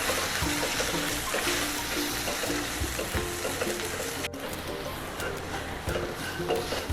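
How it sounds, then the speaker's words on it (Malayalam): Chili, coriander and turmeric powders are stirred into a Tamil-style curry in a hot pan, giving a steady sizzling, watery frying hiss with light scraping that continues throughout, partly under a voice. "നല്ലപോലെ ഇളക്കി കൊടുക്കാം."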